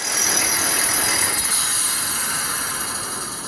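A Dual Express reel grinder winding down after sharpening a Toro mower reel, a steady high metallic whir and grinding hiss with faint ratcheting clicks, close and continuous, slowly fading toward the end.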